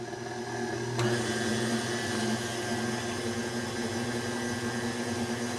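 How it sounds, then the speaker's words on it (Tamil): An electric mixer beats eggs into chocolate cake batter. It runs as a steady, close mechanical whir with a brief click near the start, with no talk over it. "இப்போ இதையும் மூடி போட்டு ஒரு 30 செகண்ட்ஸ் பீட் பண்ணுவோம்."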